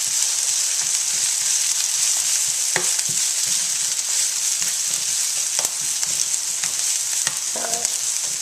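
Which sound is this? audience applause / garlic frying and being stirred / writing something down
garlic frying and being stirred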